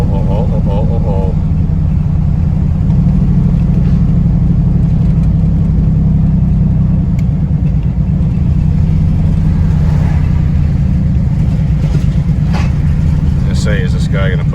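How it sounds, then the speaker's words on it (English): A cammed 8.1 Vortec GMC truck hauling 15,000 lbs, with a loud, steady, deep exhaust drone heard from the cab for the whole stretch, along with road noise. "Listen to that exhaust."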